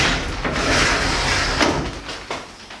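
A 32-inch-wide sliding pocket door in a shed being converted into a chicken coop rolls along its track, a loud, close, rough scraping rumble lasting a couple of seconds that ends in a softer bump.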